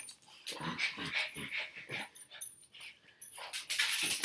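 A pet dog named Peanut whimpers and yips for chicken, a close run of short, high, pleading whines in quick succession with brief pauses, fairly quiet and alone.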